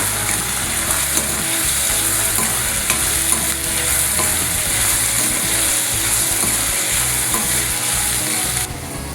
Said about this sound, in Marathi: आता त्यात आपण हे टोमॅटो घालूया. टोमॅटोही आपण छान परतून घेऊया.